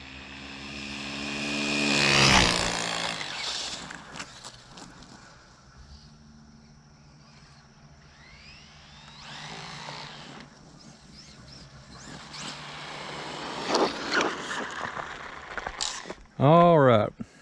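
A Traxxas Slash Ultimate RC car makes a high-speed pass, its electric motor whine swelling loudly as it approaches and then fading away, with voices talking and later a short rising-and-falling whine.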